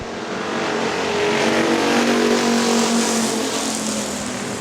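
Factory stock race cars roaring around Hartford Speedway Park, engines swelling as the pack passes close by and then fading slightly, a continuous loud motor drone.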